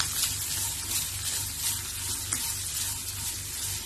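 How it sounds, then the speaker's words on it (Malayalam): Cabbage, beans, carrot and capsicum stir-frying on high flame for restaurant-style vegetable noodles: a dense, steady sizzle with faint scraping clicks, close and continuous, with no voices. "എല്ലാ പച്ചക്കറികളും ഇട്ട് ഹൈ ഫ്ലെയിമിൽ നന്നായി വഴറ്റിയെടുക്കും."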